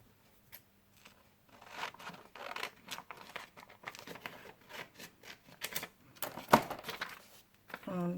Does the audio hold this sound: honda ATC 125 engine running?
no